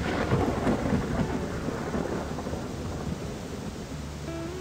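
Rain and thunder in the video game WolfQuest 3, a deep rumbling roll of thunder over steady heavy rainfall that continues evenly throughout.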